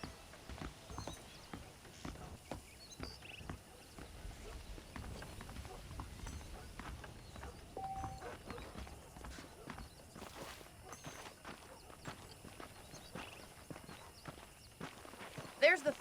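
Horse hooves clip-clop steadily at a walking pace in a Red Dead Redemption western game, soft and somewhat distant beneath background ambience and occasional other noises for the whole stretch.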